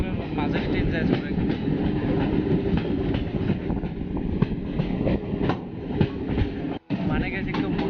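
Train running through hilly country in north-east India, a steady rumble with rhythmic clickety-clack of wheels on the rails, heard from on board with a brief dropout near the end.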